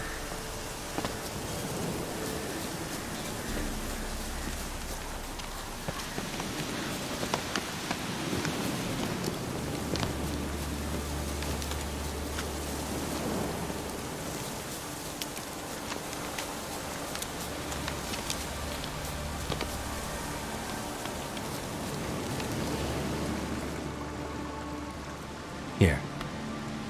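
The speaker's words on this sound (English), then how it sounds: "Looks like rain." Steady rain patters and hisses throughout in the video game The Witcher 3: Wild Hunt, with occasional rustles and a brief sharp knock near the end.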